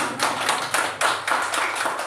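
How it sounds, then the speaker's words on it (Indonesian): Clapping from a school audience at a teachers' positive-culture dissemination event in Aceh Singkil, a fairly rhythmic series of sharp hand claps at moderate volume, with no talking. "Boleh diberi tepuk tangan."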